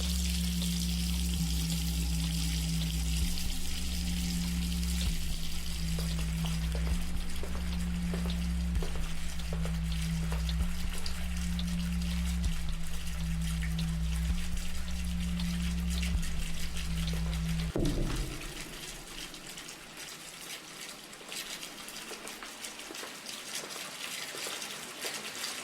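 Steady running water streams and gushes in a horror video game, a constant close hiss under a low hum that drops away abruptly partway through, leaving a quieter wash.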